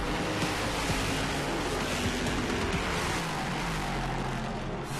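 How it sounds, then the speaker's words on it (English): Historic sports cars racing at a vintage racing event in Georgia, a dense continuous roar of engines mixed with wind buffeting, loud and steady throughout, no voices. "welcome to the Midi, the historic sports car racing event here in Georgia"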